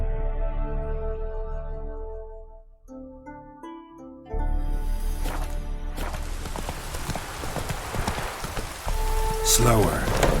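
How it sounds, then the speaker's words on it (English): Rain falls in The Witcher 3 as broad, hissing noise that swells in after a quiet stretch of sustained musical tones. Hoofbeats and brief voices sit within the downpour. "No use doing any work in this rain."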